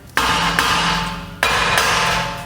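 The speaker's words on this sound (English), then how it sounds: "you have to get a hammer" Hammer blows strike the rear brake rotor of a 2014 Chevy Cruze Diesel to work it loose, with three loud metallic hits, each followed by long ringing decay, close up and with no talk.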